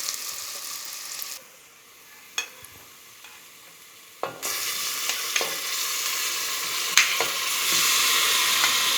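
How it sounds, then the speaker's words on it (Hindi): Half a kilo of minced keema is added to browned masala, and the quiet sizzle swells into loud, steady frying, with scraping knocks of a spoon stirring through it. "कीमा हाफ़ kg मैंने लिया है और मैं इसमें ऐड करूँगी।"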